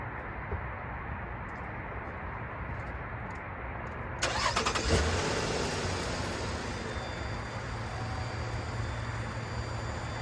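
A 2015 Nissan Pathfinder engine cranks and catches with a sharp burst about four seconds in, then settles into a steady, close idle hum with a faint high whine above it.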